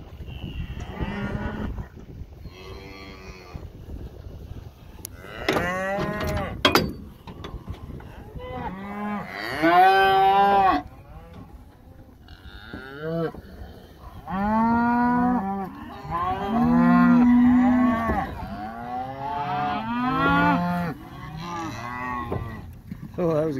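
Cattle released to pasture moo repeatedly, loud and close, with several overlapping long calls from different animals and short gaps between them, alongside faint clanking from a trailer or gate.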